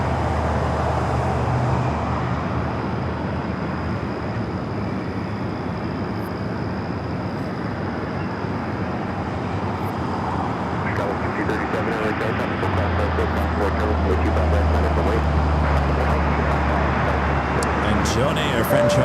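A jet airliner takes off from runway 25 right at LAX at night, its engines a steady, loud broadband roar that builds slightly toward the end, with a voice talking over it.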